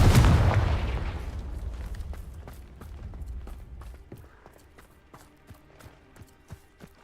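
A fiery Confringo blast spell in Hogwarts Legacy, played on PC, erupts as a loud booming explosion that rumbles and fades, followed by scattered small cracks and pops of debris.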